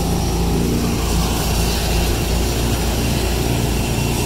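The engine of a crop-spraying plane working over a lentil field runs in a loud, continuous, steady drone with no voices.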